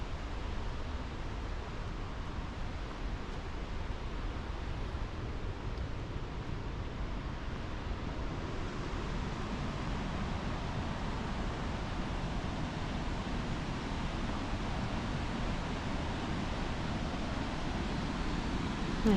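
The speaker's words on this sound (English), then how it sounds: "I hear the water rushing in the back" Water rushes steadily at Wapta Falls, a faint, even broadband roar in the background that holds unchanged throughout with no other sounds.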